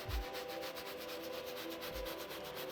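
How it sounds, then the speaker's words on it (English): Cleaner lather is scrubbed in small circles over a car's fabric headliner, producing a soft, continuous brushing and rubbing sound that is quiet and steady, with no talking. "you just work this around in little circles, and you can see how much more of a lather it creates"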